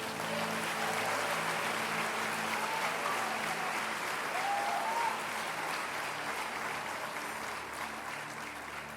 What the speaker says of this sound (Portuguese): receba o servo de Deus, aplaudindo o Senhor